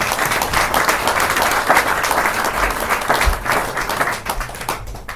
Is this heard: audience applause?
yes